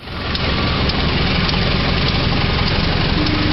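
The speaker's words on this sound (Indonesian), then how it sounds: "Lokomotif General Electric yang didatangkan langsung dari Amerika Serikat, yaitu GEU 20C atau CC203." A General Electric CC203 (GE U20C) diesel locomotive with a GE 7FDL-8 engine idling, a loud, steady low rumble with constant vibration, close by and unbroken for the whole stretch.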